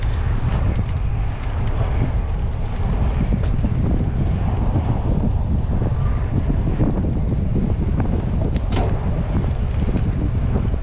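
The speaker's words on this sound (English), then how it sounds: "Wind is starting to pick up here." Strong wind buffets the microphone during a bicycle ride on a road in The Villages, a loud, constant low rumble with gusty surges and no speech.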